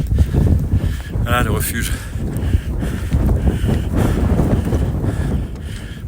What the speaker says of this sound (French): il y a un vent, il fait froid